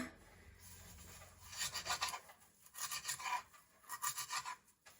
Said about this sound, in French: il faut hacher l'herbe